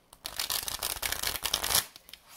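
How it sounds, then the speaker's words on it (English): Rifle shuffle of a small tarot deck, a quick run of papery riffling and flutter that builds over about two seconds and ends in a soft snap as the cards settle, close to the microphone with no talking. "I don't think I can do the bend fold, but the rifle shuffling"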